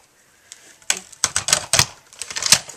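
A Bind-it-all punch cuts holes through a composition book cover in a quick run of sharp, clattering clunks and clicks, close and fairly loud, with many overlapping mechanical snaps.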